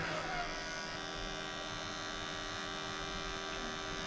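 An electric hair clipper runs with a steady, even buzzing hum, close and constant throughout, with no talk.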